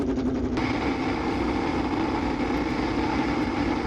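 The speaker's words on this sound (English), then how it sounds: "listen to the V12 soundtrack" Ferrari F50 V12 engine in the Assetto Corsa racing game, a continuous loud droning engine note held steady at high revs without pause.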